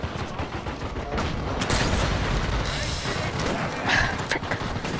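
Gunfire in the Sniper Elite VR shooter game: scattered shots and bursts with clattering impacts over a busy battle background, loud and close, with faint voices mixed in.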